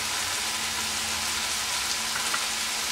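A pot of rice on the stove bubbles and hisses steadily as the water boils off, a dense even crackle at moderate volume throughout.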